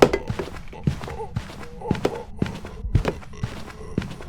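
Ghost footsteps in the horror video game Phasmophobia during a hunt, a steady series of heavy, thudding steps with a slow even rhythm, fairly close and prominent over a low background.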